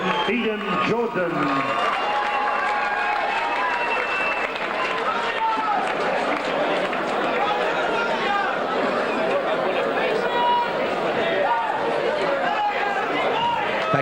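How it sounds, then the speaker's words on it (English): Crowd at an amateur boxing night between bouts, a steady roar of cheering, clapping and chatter that stays loud and constant throughout, with voices mixed into the hubbub. "Come on, a big round of applause there, Nick Raptis and Eden Jordan"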